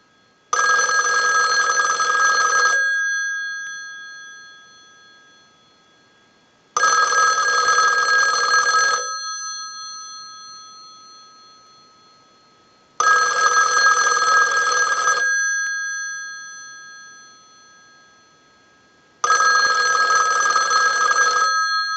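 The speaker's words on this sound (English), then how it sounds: "send a ring cycle like you were getting a call" A loud Western Electric 500 rotary telephone bell rings in four long bursts, each about two seconds, separated by roughly four-second silences with a lingering ring-down.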